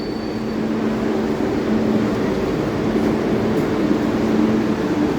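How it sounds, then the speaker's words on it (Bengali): An underground metro train arriving at a station beneath a park, heard as a dense, steady roar and rumble that fills the space at constant loudness. "সো অলরেডি মেট্রো চলে আসছে।"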